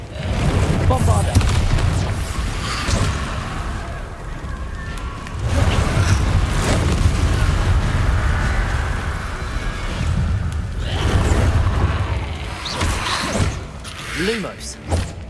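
Bombarda spell explosions in Hogwarts Legacy, a video game: heavy booming blasts and thuds recurring over several seconds, loud and close, mixed with game music and a voice talking over them.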